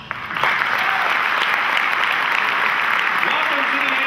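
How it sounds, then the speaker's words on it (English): A large keynote audience at a developer conference in Buenos Aires breaks into loud, sustained applause that starts abruptly and holds steady as a dense wash of clapping, with faint voices beneath. "So give yourselves a round of applause."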